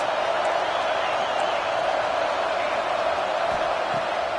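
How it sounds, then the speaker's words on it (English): A large stadium crowd at a Georgia versus Oregon football game roars in a steady, dense wash of noise, loud and continuous, with occasional shouts rising above it. "Listen to this crowd just shaking the girders of this place"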